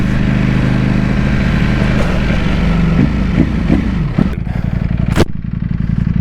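A Ducati Panigale V4S motorcycle engine idles loud and close with a constant low rumble, shifting slightly in pitch. A couple of sharp clatters break in near the end.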